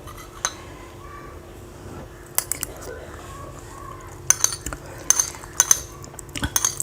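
A metal spoon clinks against a cooking pot while gourd curry is being tasted, with scattered light taps early and a cluster of sharp, bright clinks toward the end, close up over quiet background.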